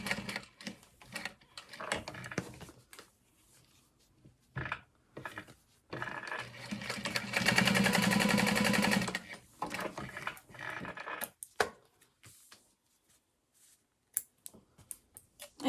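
A sewing machine stitches at a 4.5 stitch length, sounding as scattered short whirring bursts with one longer steady run in the middle, close and fairly quiet, with no speech.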